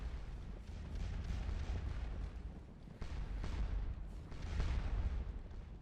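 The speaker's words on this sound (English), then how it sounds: "At the moment they're mainly being slowed by cannon." Cannon and artillery fire in the Napoleonic battle game Scourge of War Waterloo, a continuous rumbling roar of distant booms that rises and falls without any clear single shot.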